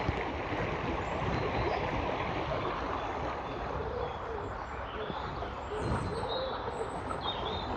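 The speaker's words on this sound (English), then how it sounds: "Listen to all those birds." Many wild birds call and sing together in the British countryside near a small pond, a dense steady chorus of chirps and coos with a faint running-water wash underneath, no talking.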